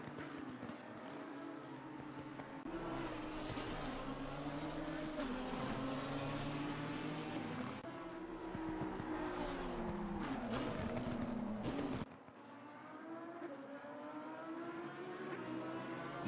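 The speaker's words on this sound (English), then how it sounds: "Huracan versus GTR as they mount the crest in towards Skyline" Lamborghini Huracan and Nissan GT-R race cars climbing over a crest toward Skyline at Bathurst, engines roaring loud and continuous with rising and falling pitch as they pass, the sound dropping away abruptly near the end.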